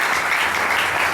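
A church congregation at a French-language leaders' conference breaks into loud, dense applause and cheering, a brief continuous wash of clapping close by.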